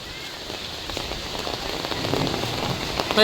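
First monsoon rain falling in Baramati, a steady dense patter on surfaces that builds slightly louder, continuous hiss with no voices.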